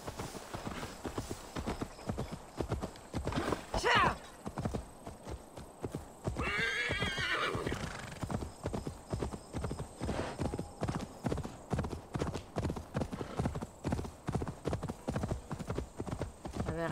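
A horse galloping in Assassin's Creed Valhalla, close rhythmic hoofbeats pounding steadily throughout, broken by a loud whinny partway through.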